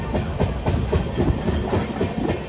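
The Tamralipta Express, running from Howrah to Digha, rumbles loudly with a steady broadband roar and hiss, with rhythmic clickety-clack wheel beats on the rail joints heard up close.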